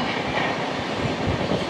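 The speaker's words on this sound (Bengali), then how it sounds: "চলে আসছে ট্রেন নাম্বার 12818 আনন্দবিহার টার্মিনাল থেকে হাতিয়া" The Jharkhand Swarna Jayanti Express, train 12818 from Anand Vihar Terminal to Hatia, rolls past close by in a loud, continuous rush of wheel and carriage noise with no talking.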